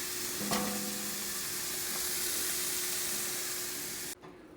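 Sauce with spinach and garlic shallot confit sizzles in a pan while being stirred, a steady hiss with a brief scrape of a utensil near the start, cutting off abruptly near the end.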